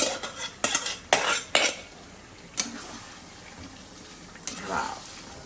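Cooked chicken is tipped into a biryani pot and stirred. A metal spoon clanks and scrapes sharply against the pot several times over a faint sizzle, with a few later knocks.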